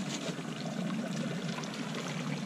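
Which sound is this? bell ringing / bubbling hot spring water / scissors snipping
bubbling hot spring water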